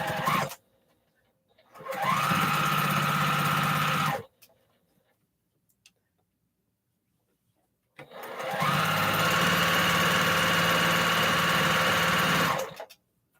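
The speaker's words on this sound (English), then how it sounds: "I really love these Juki sewing machines, y'all." A Juki sewing machine stitching a 1.5-inch postage stamp quilt top runs in two steady bursts, about two seconds then nearly five seconds, with a whirring motor and rapid needle clatter, close and loud, separated by silence.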